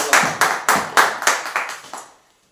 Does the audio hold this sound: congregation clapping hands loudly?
yes